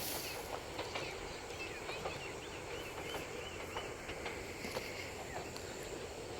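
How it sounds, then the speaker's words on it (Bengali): A train rumbles steadily through Bawal station with rhythmic clicking of wheels over rail joints, a constant low roar throughout with faint higher squeals. "কত দূর থেকে ট্রেন চলে আসে"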